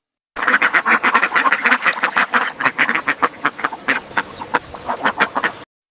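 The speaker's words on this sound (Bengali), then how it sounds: "ডাককে বাংলাতে হাঁস বলা হয়। হাঁস পানিতে সাঁতার কাটে এবং ডিম দেয়।" A duck quacks in a rapid, loud, close series of nasal calls lasting about five seconds, with short gaps between bursts.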